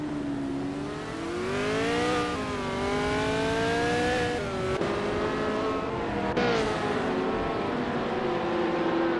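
AI-driven race cars roar through a racing video game, engines whining in rising and falling pitch sweeps as they accelerate and shift gears, loud and continuous with overlapping cars passing and no talking.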